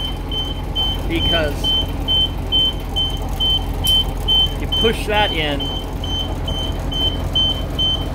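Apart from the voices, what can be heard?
school bus turn signal and hazard lights clicking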